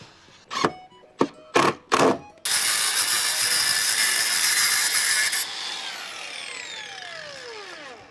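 Aluminium angle being fixed into the internal corners of a salvaged-timber window box: four sharp, close knocks, then a loud three-second burst of a power tool, which fades into a falling, winding-down whine.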